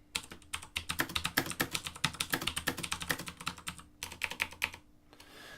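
Rapid, steady clicking of keys on a computer keyboard, typed in quick bursts with brief pauses between them.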